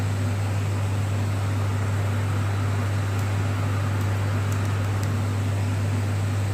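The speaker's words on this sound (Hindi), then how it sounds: "और इधर चल रहा है कूलर।" An evaporative air cooler runs dry without water indoors, giving a steady, loud rushing fan noise over a low constant hum, unbroken throughout with no voices.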